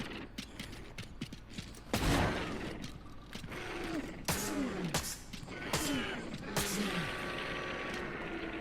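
Shotgun blasts fired at the fisherman in the horror game Tormented Souls 2, several loud booming shots with mechanical pump and reload clatter between them, amid game ambience.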